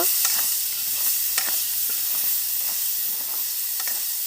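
Chopped onion and green chili frying in a pan at home, a steady close sizzle with occasional stirring scrapes and brief crackles, no voices.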